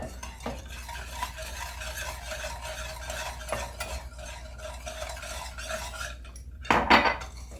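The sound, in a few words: mixing whole milk into pie filling with utensil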